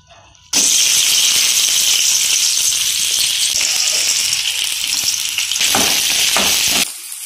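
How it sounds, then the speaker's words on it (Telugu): Onions and green chillies fry in hot oil in a pan, giving a loud, steady, close sizzle with faint stirring scrapes near the end before the sound cuts off. "ఇప్పుడైతే ఆనియన్ అయితే మంచిగా వేగుతున్నాయి"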